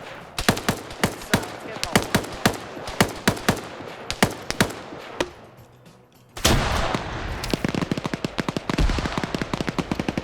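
Rapid bursts of gunfire fill a PvP video game match, sharp repeated shots in quick runs with a brief lull before a louder, denser stretch of firing, with a voice speaking faintly under it.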